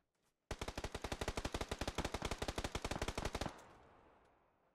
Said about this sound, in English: I can hear people shooting.